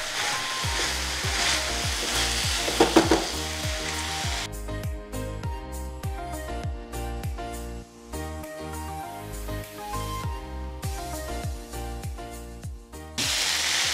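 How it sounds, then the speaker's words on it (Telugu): Sliced ivy gourd dropped into a hot pan with ginger-garlic paste, giving a loud continuous frying sizzle close up, followed by rhythmic scraping and stirring clatter of a utensil against the pan. "ఈ టైంలో మన 1/2 కేజీ దొండకాయలు ఇట్లా పొడుగ్గా కట్ చేసుకున్న వేసేస్తున్నాం"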